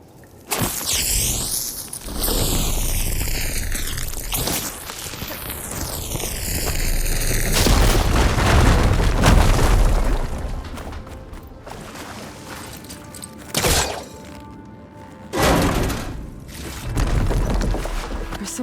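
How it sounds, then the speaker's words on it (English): Fire gleam blown up in Horizon Forbidden West on PC, a deep rumbling explosion swelling around 7.5 s and rolling on for several seconds, followed by scattered debris thuds and crashes. "Should be able to blow up that fire gleam."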